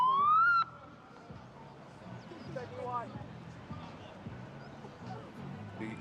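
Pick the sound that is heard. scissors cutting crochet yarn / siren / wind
siren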